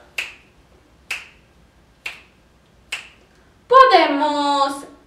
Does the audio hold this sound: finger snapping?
yes